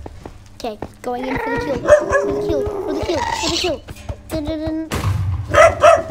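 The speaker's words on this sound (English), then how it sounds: "That's my dog again." A dog barks in a Minecraft lucky blocks game, several short yips and barks scattered among lively talk, mostly under a voice.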